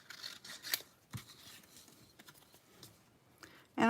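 Scissors snip out a paper piece at close range, quiet irregular crisp cuts and rustles with short pauses, faint overall and with no voice.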